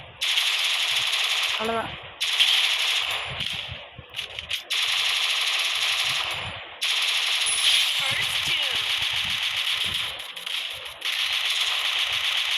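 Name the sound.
gunfire in the video game Free Fire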